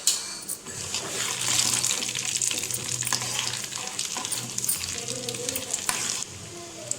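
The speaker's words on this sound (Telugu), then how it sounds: "వేసుకొని కొంచెంసేపు అయితే ఫ్రై చేసుకుందాము." Chana dal, cumin and urad dal fry in hot oil with a continuous close crackling sizzle, with clinks and scrapes of stirring throughout and a brief quieter stretch at the end.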